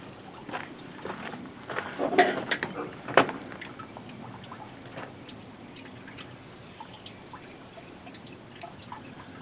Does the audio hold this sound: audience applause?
no